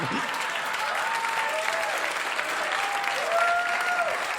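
Comedy club audience applauding steadily at a stand-up show, a dense, even wash of clapping with a few faint whoops, close and sustained throughout.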